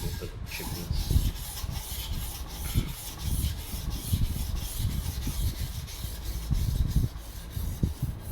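A knife with minor edge chips being sharpened, rhythmic back-and-forth rubbing strokes on a stone repeating roughly every half second, close and fairly loud, with no speech.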